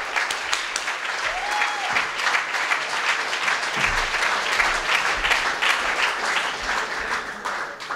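At the opening of the 24th Budapest Pride LGBTQ festival in 2019, a crowd applauds steadily and fairly loudly for several seconds, with some scattered voices beneath the clapping.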